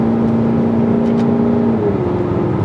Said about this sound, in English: stepping off the accelerator, gives the engine some nice playful burbles